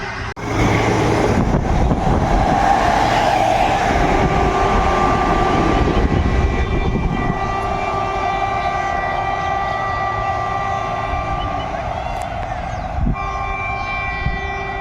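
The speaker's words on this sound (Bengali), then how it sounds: "এখন এই মুহূর্তে বিসিএম ট্র্যাক মেশিন যাচ্ছে" A BCM track machine runs along a railway line near the Nasipur rail bridge, a loud, steady rolling rumble with sustained horn-like tonal notes that hold throughout and fade slightly toward the end.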